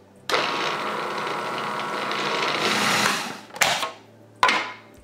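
A food processor whirs loudly as it aerates 00 flour for pasta dough, a steady close motor drone for about three seconds, followed by two short bursts of pulsing.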